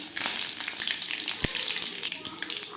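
Curry leaves hitting hot oil for a mango and garlic pickle, a bright crackling sizzle with sharp spitting pops and one louder crack midway, close up, with no speech.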